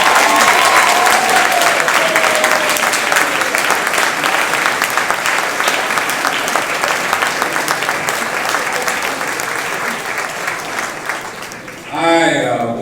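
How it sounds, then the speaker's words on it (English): A large audience at a 50th anniversary celebration at the Carnegie claps in a long, steady round of applause that fades toward the end, with voices briefly rising over it at the close. "Give all 50 of these folk a round of applause"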